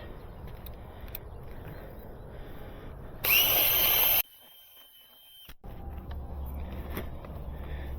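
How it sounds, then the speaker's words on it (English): A power drill fitted with a masonry bit whines loudly in one sustained burst of about a second, close to the listener, against steady outdoor background noise and no speech. "So I have a 38-inch masonry bit, and I want to tilt it at the angle that it pops right out for me."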